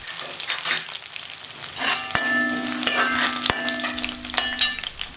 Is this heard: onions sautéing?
yes